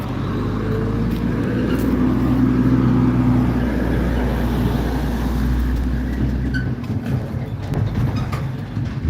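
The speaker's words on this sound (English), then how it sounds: "That was a big old Mack truck coming through." A big Mack truck driving past, a steady heavy low rumble and roar that swells and then fades over several seconds, fairly close and loud.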